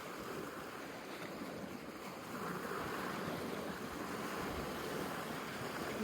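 Waves on the Dead Sea wash in a soft, continuous surge with wind buffeting the microphone. The sound grows somewhat louder partway through and stays fairly quiet overall.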